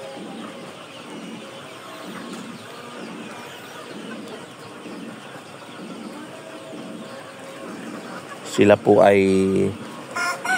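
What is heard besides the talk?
chickens clucking on a poultry farm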